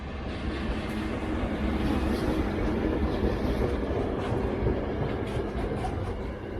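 A train rolls past near Launceston, Tasmania, as a steady, loud, broadband rumble of rail wagons with faint clickety-clack, holding at constant strength for the full stretch with no voices.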